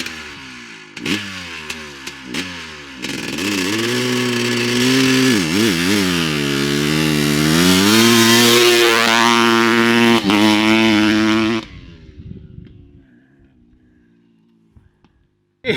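A 1985 Honda CR500 dirt bike, fitted with a poor muffler, revs hard and close, its raspy two-stroke howl climbing and dipping through the gears before cutting off into quiet.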